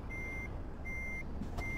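A truck's reversing alarm in the Euro Truck Simulator 2 driving game, three evenly spaced electronic beeps, each about half a second long, clear and steady over a low engine rumble.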